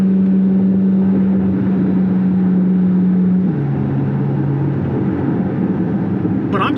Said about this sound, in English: This is the greatest sounding engine that you can get for the money.